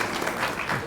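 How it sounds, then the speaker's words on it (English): Brief burst of applause at a county board meeting, a short wash of clapping from the room at moderate level. "Yeah, that deserves an applause."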